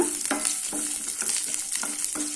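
Chopped small onions and garlic cloves sizzling in a hot pan, a steady frying hiss broken by several rhythmic scrapes of a spoon stirring, close and clear.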